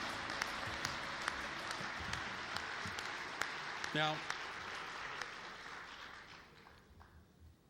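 Applause for sponsors at an awards banquet, with scattered claps under a steady crowd wash that fades out toward the end, while a voice briefly speaks over it.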